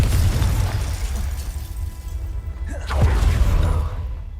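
A Confringo blasting spell in Hogwarts Legacy, a deep booming burst with a rumbling low impact, then a second sharp whooshing blast and crackling debris, loud and close.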